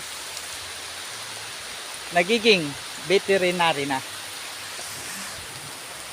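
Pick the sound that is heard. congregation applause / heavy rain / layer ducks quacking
heavy rain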